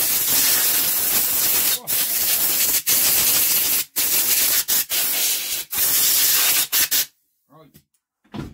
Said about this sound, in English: Compressor is built up. We're going to give this a blowout